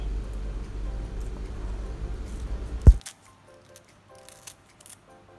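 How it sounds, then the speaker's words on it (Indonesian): Scissors snip the top off a wrapped steamed snack, one sharp cut standing out against low background hum, followed by soft clinks and light handling noises in a quieter stretch. "ini sebelum dikukus boleh digunting bagian atasnya ataupun dikukus dulu baru digunting boleh"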